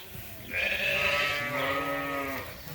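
Sheep (ewes) bleat in a farm barn: one loud, drawn-out bleat close by, with a second overlapping cry joining partway through, over faint background rustle.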